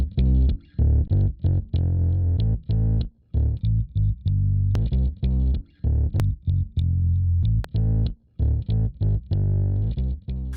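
A signal run through the Rob Papen RP-Distort plugin, its mix set to full: a heavily distorted, buzzy musical phrase of choppy, punchy notes with brief gaps between them, loud and alone.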